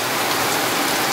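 Heavy rain pours down in a dense, constant hiss, loud and close, with no let-up and no voices.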